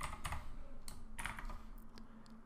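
Test code for REST Assured API automation is typed on a computer keyboard. A quick, steady run of close, light keystroke clicks continues without pause, with no talking.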